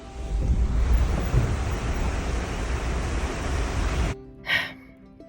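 A huge waterfall on a nature motor trail near Gatlinburg, Tennessee, pours as a dense, loud roar of rushing water for about four seconds, then cuts off abruptly, leaving a brief quieter stretch with a faint higher sound.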